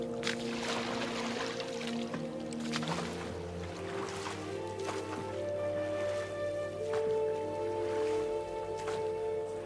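A boat glides steadily through water in an underground passage, with continuous lapping and swishing close by under sustained musical tones, and no voices.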